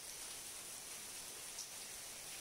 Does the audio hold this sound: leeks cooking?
no